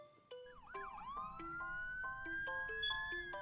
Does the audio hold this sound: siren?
yes